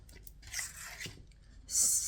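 A cutter slices around cardboard for a travel jewelry box, making soft, intermittent crunchy scraping sounds close by, then a short hiss at the end.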